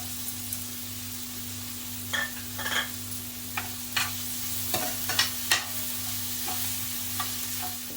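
Asafoetida and green chili sizzle in hot oil in a pan while being stirred quickly, with a steady frying hiss broken by several sharp scraping and clinking strokes of a spoon.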